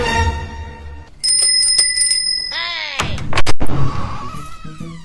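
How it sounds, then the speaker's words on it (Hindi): A bicycle bell rings in a few quick bright trills, loud and close, with street noise and clattering around it. "इन्होंने घंटी वंटी लगा रखी क्या?"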